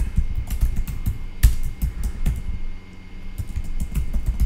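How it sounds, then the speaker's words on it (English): A troublesome computer keyboard is typed on in bursts of loud, close clicks with short pauses between them. One heavier key strike stands out, over a low background hum, and no one speaks. "My keyboard is giving me some trouble here."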